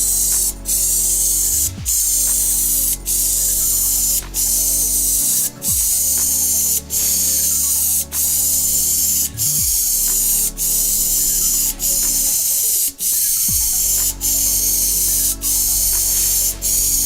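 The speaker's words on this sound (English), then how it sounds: "I'm now going to adjust the spray gun to widen the spray pattern out" A spray gun applies self-adhesive membrane primer in a loud, close, continuous hiss, broken by short regular pauses every couple of seconds between passes.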